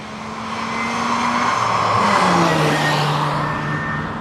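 A Mazda RX-7 Mk1 rotary engine held at about 4,500 rpm makes a smooth, steady hum with a tonal drone. It swells slightly in loudness and then eases, with no voices over it.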